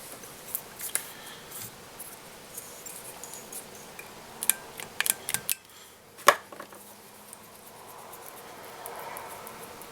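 Small scissors trimming thread while tying a Diawl Bach fly: a quiet workbench scene with scattered faint clicks and snips, a cluster of sharper metallic snips in the middle and one louder click near the end, no talk.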